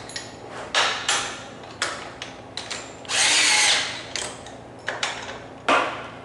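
A 12-volt Black & Decker cordless drill fitted with a 9/16 socket whirs in short, close bursts, a series of quick spins and one longer run, with small clicks and clunks between them.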